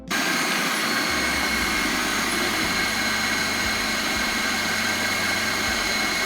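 An old food processor blends garlic scapes and oil into pesto, with a loud, steady whirring drone that starts abruptly and runs on continuously.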